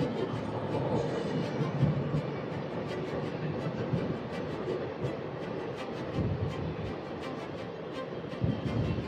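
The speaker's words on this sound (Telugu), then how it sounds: "మనకు ఆపోజిట్ లో ట్రైన్ వస్తుంది, చూద్దాం ఏ ట్రైన్ అది. హిరాఖండ్ ఎక్స్ప్రెస్, భువనేశ্వర్ జగదల్పూర్." The Hirakhand Express, running Bhubaneswar to Jagdalpur, passes alongside on the Koraput–Visakhapatnam line through the Eastern Ghats, a loud steady rumble and clatter of wheels and carriages lasting throughout with no voices.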